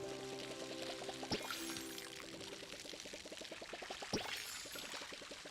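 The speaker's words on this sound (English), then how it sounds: "go ahead and water everything" Farm crops are watered in the game Palia: a quiet, steady pour with a rapid ticking patter and a couple of soft splashy accents.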